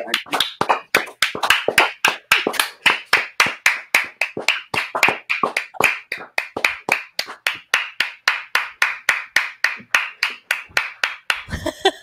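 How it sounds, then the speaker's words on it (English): People applaud for NHS carers, a sustained run of sharp, evenly spaced claps that keeps a brisk, steady rhythm for the whole stretch, loud and close with no talk over it. "So let's clap for our carers."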